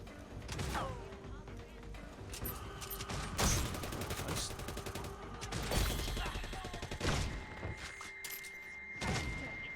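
Gunfire in the video game Redfall fires in repeated bursts and single heavy shots while the player sprints, with thuds and mechanical clanks in between, fairly loud throughout.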